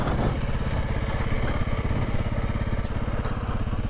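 Honda CRF300L Rally ABS, a 2021 dual-sport motorcycle, rumbles steadily as it is ridden. The single-cylinder engine note stays continuous and loud, with wind buffeting close to the mic.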